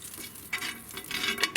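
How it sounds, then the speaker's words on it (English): Oil sizzles in a frying pan that has been used for sautéing, giving a soft steady hiss with brief louder crackles and bursts, close by and without talk. "take our frying pan that we've been sauteing and we're going to add a little bit more oil to it"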